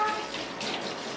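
Running water rinses a dog during a bath, a brief steady rush of splashing tap water heard close up without any voices.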